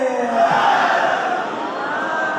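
A large crowd at a Ghadeer celebration chants slogans in unison, a loud, sustained mass of voices that swells and fades together.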